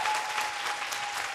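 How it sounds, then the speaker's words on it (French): Studio audience applauding a contestant on a French-language radio cooking segment, a steady dense wash of clapping throughout, fairly faint, with no voices over it. "Est-ce qu'on peut applaudir mon candidat"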